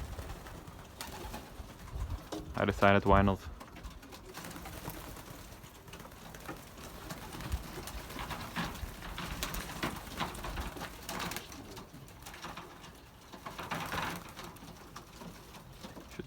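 Soft cooing from young pigeons comes in a brief burst near the start, over a steady outdoor background with faint scattered sounds afterward.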